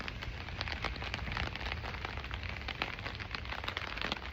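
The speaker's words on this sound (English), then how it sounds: "I'm gonna shut up so you can hear the raindrops" Raindrops fall steadily on the grounds of a temple at Jozankei, a continuous close patter with crisp individual drop hits and no one speaking.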